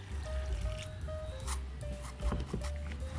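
A small splash of water poured into a pot of kondol squash as it cooks into maruya, a soft liquid pouring and squishing with faint tonal kitchen noise behind it.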